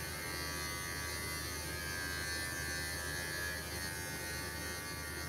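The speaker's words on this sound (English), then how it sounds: "I don't really usually use this clipper" An electric dog grooming clipper runs with a steady, faint buzzing hum during grooming of a small Morkie's face, feet and sanitary area, continuous and alone with no talking.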